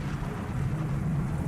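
Steady rain falls on a rainy evening, a dense continuous hiss with a low rumbling undertone of thunder, even in level throughout with no voices.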